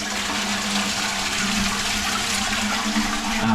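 A toilet with a leaking overflow is flushed during a plumber's emergency call-out, giving a loud, continuous rush of water close by with a steady low hum beneath it and no voices.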